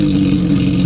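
Engines of a trombone engine build rev steadily while warming up, a loud continuous droning roar close by with no other sounds.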